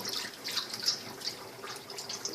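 Boiled water drained out of a pot that held cow feet and tripe, heard as a steady splashing, trickling pour of liquid running close by, with no talking.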